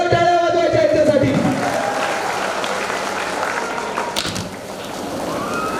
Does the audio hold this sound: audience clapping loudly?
yes